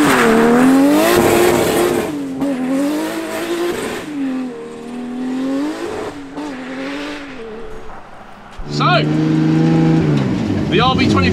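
VW Beetle fitted with a Nissan Skyline RB25 engine revving loudly nearby, rising and falling engine tones in repeated pulls, with people talking over it.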